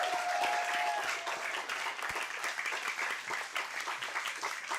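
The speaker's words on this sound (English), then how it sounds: "let's give another big round of applause for both of our speakers of the evening" Steady applause from an audience at a livestreamed astronomy talk in a bar setting, dense even clapping sustained throughout at moderate distance, with no voices over it.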